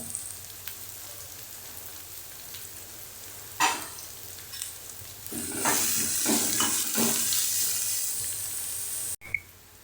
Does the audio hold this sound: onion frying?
yes